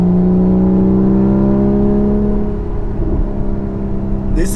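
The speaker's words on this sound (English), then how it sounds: "I'm driving a normal mode and you can hear on the back, it's much, much louder." Porsche 981 Cayman fitted with a Soul Performance exhaust accelerating in normal mode at about 4,000 rpm, a loud close droning exhaust note that rises steadily in pitch and stays continuous throughout.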